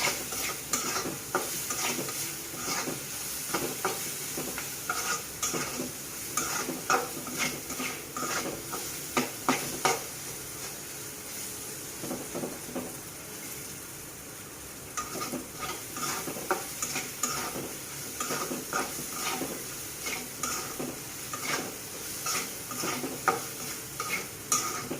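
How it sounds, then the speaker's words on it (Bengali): Chepa shutki, fermented dried fish, being stir-fried over a low flame, with steady sizzling and frequent scraping, clattering stirs of a utensil against the pan throughout. "চুলার জালটা এইভাবে কষিয়ে নিতে হবে কয়েক সেকেন্ডের মতো শুটকিটা"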